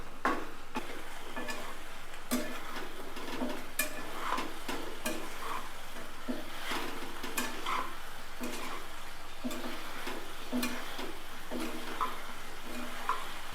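Fried chicken is stirred into sauce in a pan, with a constant low sizzle under repeated rhythmic scrapes and knocks of a spoon against the pan.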